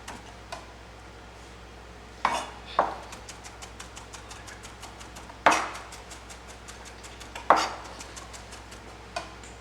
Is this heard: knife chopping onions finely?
yes